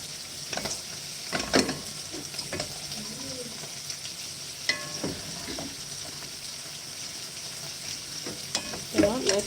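Green vegetables sizzle steadily in a hot pan, with scraping stir strokes breaking through the frying hiss at irregular intervals, close and moderately loud, with no talking.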